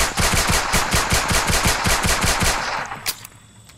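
Rapid automatic gunfire from a first-person shooter video game, a steady burst of shots for about three seconds that cuts off abruptly, followed by a single metallic click and quiet.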